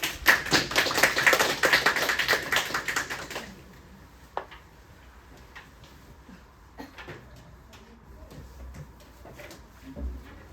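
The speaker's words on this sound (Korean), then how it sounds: "박수로 맞이해 주십시오" An audience at a high school admissions briefing claps to welcome a teacher, with a fast, dense spatter of applause for about three seconds. It then stops abruptly, leaving a quiet hall with scattered small knocks and shuffles.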